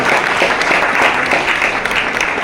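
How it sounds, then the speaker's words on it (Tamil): A press-meet audience for the film Draupathi claps for a song, a short burst of dense, fairly loud applause that stays steady throughout. "கைத்தட்டுங்க"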